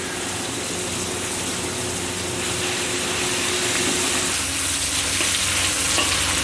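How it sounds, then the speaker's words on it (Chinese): Ginger and garlic sizzle hard in hot oil in a wok, a loud, dense, continuous frying hiss with faint stirring scrapes and no voices. "下姜蒜，炒姜哈"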